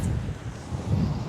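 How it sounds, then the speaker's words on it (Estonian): Strong wind at the seashore during flounder fishing, a steady low roaring rush across the microphone with no breaks, fairly soft and continuous. "Nii kõva tuul on, et ega eriti ritvadest aru ei saa."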